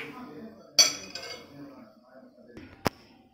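Spoon clinks against a bowl as spices and ginger-garlic paste are stirred together for stuffed okra, two sharp metallic taps standing out over faint kitchen rustling, with a person talking quietly in the background.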